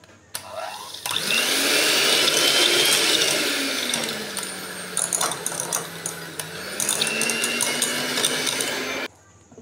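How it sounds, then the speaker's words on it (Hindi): An electric beater whips cream in a bowl with a steady, loud mechanical whir and rattle. The motor pitch dips slowly, then rises again, and the machine cuts off near the end. "क्रीम को अच्छी तरह से मैंने बीट कर ली है"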